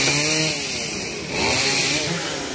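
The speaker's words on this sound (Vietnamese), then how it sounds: "Bốn người cùng cưa một lúc." Several chainsaws cut branches off a mù u tree in a garden at once, a loud, steady, overlapping engine drone that rises and dips slightly as the blades bite.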